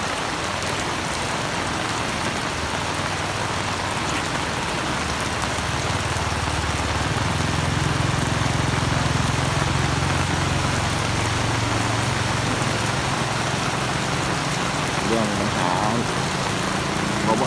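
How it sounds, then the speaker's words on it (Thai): Heavy rain falls steadily during a flood, a constant broadband hiss with a low engine idling underneath and someone speaking over it. "ฝนตกหนักมากนะตอนนี้ตก หนักประมาณ หนึ่งชั่วโมงหนึ่งชั่วโมงครึ่งกับสองชั่วโมงนะครับ"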